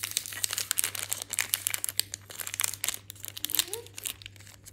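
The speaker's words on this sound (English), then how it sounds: "Let's see how I go with my one-handed unwrapping on this present." Wrapping paper crinkles and tears as an advent calendar present is unwrapped one-handed, a busy, close run of rustling and crunching bursts with a steady low hum underneath.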